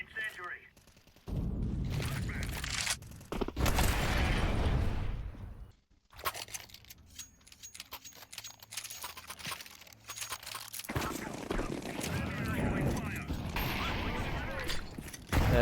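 Gunfire in a first-person shooter video game comes in sharp bursts of shots mixed with mechanical clatter, broken by short gaps, with voices talking over parts of it.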